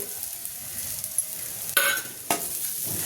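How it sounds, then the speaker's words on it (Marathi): Coarsely ground fresh pigeon peas fry with turmeric in a pan, a soft steady sizzle broken by a few sharp clinks and scrapes from stirring. "आबडधोबड वाटलेलं तुरीचे दाणे याच्यात टाकून चांगले परतवून घ्यायचे."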